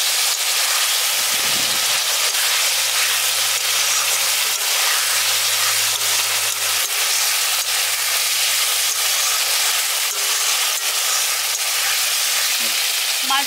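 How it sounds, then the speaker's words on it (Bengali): Fried rohu fish pieces sizzle steadily in hot spice paste in a pan for a village-style fish curry, a dense continuous frying hiss with occasional stirring scrapes, close and even throughout. "এবার মাছগুলো দিয়ে মশলাটার সঙ্গে কষিয়ে নিচ্ছি"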